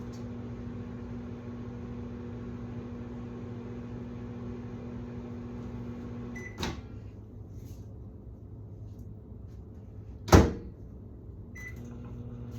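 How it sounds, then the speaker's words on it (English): A microwave oven hums steadily while softening butter for a few seconds, then stops with a sharp click, followed later by a loud door clunk and a fainter knock. "To soften butter, I'll just stick it in the microwave for a few seconds."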